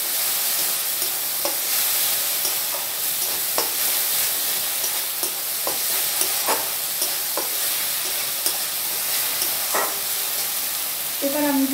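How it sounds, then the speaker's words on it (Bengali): Masala being sautéed in a pan for Bengali prawn malai curry sizzles steadily throughout, with a spatula scraping and stirring at irregular intervals. "আমি মশলাটা ভালো করে কষিয়ে নেব"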